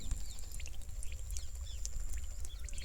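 Water soaks into parched, unwatered soil, giving a faint, steady fizz of tiny bubbles popping and crackling at close range over a quiet outdoor background.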